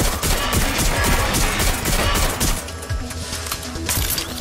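Dense, continuous gunfire in Watch Dogs: Legion, a rapid overlapping fusillade of shots with crashes mixed in, loud and sustained throughout with no voices.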